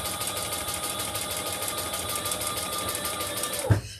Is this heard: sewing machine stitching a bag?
yes